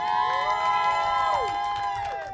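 At a stand-up comedy battle, a crowd cheers and shouts loudly and keeps a steady roar going through the whole moment.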